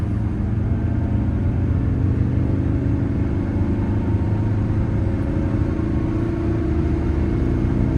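Steady low engine rumble from a Mercedes 300SD building toward highway speed, heard from inside the car with constant road and drivetrain noise and no talking.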